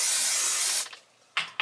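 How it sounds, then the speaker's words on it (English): Sport Edition hair spray hisses from an aerosol can in one long continuous burst lasting under a second, followed by two quick short sprays close to the microphone. "I'm gonna use this Sport Edition spray"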